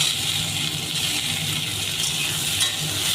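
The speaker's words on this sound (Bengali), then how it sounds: "টমেটোগুলো আর একটু সবগুলো ভেজে নেব" Tomatoes, capsicum and onion fry in a pan with a steady, close sizzle and occasional stirring scrapes, a continuous hiss at moderate loudness with no talking.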